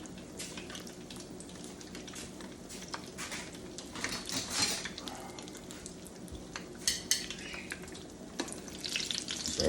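Eggplant frying in hot grease in a pan, a soft steady sizzle with small crackles and pops, faint and close, with no voices.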